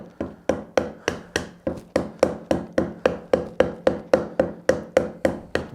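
A hammer taps a hand-cut wooden dovetail joint together in a quick, even rhythm, about twenty sharp knocks in a row, close and clear.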